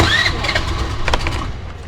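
A two-wheeler engine cranks and sputters loudly up close, struggling without catching, a steady mechanical churn with no voices.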